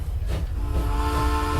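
A train in the video game Transport Fever rumbles steadily with a low, continuous rolling drone and faint sustained tonal hums layered on top, held at an even loudness throughout.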